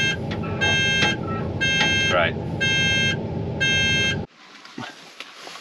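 An excavator's AdBlue warning alarm beeping in long, repeated bursts over a running diesel engine, then cutting off abruptly as the engine stops; a voice speaks briefly.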